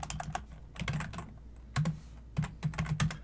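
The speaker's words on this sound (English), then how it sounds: "I'll type in interface gig 1/1." Keys clatter on a computer keyboard as a network switch interface command is typed, in quick irregular bursts of clicks with short pauses between them, close and alone.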